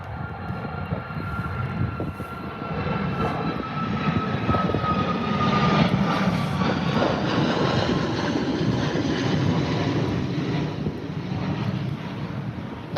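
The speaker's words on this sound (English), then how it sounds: "Clearing the runway, this Ryanair 737." A Ryanair Boeing 737 jet on the runway at Birmingham airport, a broad roaring engine rumble with a whining tone that swells toward the middle and stays loud, heard from a distance without speech.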